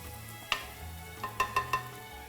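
Translucent onions fry with green chilies and coriander in a pan, a soft steady sizzle with a few sharp clinks of a spoon stirring, no talking.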